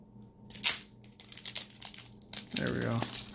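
Crinkly foil wrappers of Panini Mosaic basketball trading card packs being pulled open, a bright crackling rustle in bursts with a louder tearing crunch near the end, heard close up.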